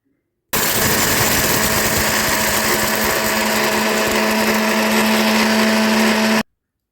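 A mixer grinder runs at full speed for about six seconds, grinding dry ingredients into a fine powder with a loud, steady motor whine and rattling churn, starting and stopping abruptly.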